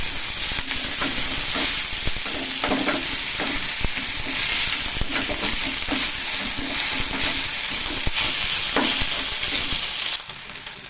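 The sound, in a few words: spinach being lightly sautéed in a pan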